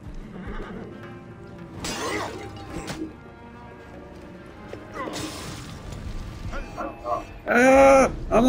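Horses in Assassin's Creed Origins whinny loudly, with a few calls and a strong, close neigh at the end, mixed with crashes and hoofbeats while someone talks.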